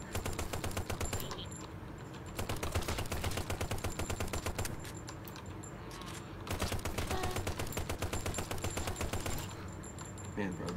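Automatic drum gun fires in long rapid bursts in the shooter game Kill the Emoji, a loud continuous stream of shots broken by a few brief pauses, with voices talking underneath.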